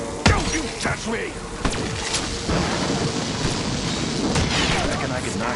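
An electrical storm in a video game brings thunder cracks and rumbles over rain, with sharp bursts early on and dense crashing texture throughout. A voice speaks over part of it.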